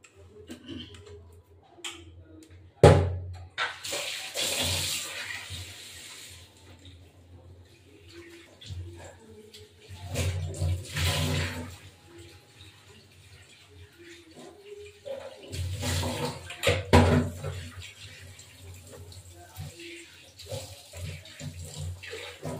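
Fish is washed under running water from a tap, with several bursts of splashing and gushing water between quieter handling noises, close by.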